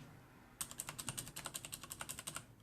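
Rapid, crisp clicking from a Corsair K70 mechanical keyboard with Cherry MX Blue switches fitted with O-rings: about twenty keystrokes in a steady typing rhythm, close and clear with no voices.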